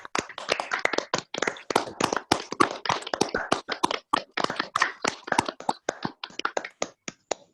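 Remote participants at a digital alumni reunion panel on rising nationalism clap after unmuting, producing a ragged run of distinct, close individual hand claps with uneven rhythm and overlapping bursts rather than a blended crowd roar.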